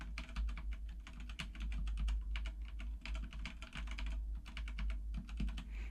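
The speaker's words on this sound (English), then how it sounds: "I'm going to type on the keyboard, just gently on the keyboard as if I'm typing." Gentle, steady typing on a computer keyboard, rapid soft key clicks in bursts with brief pauses, close and fairly quiet.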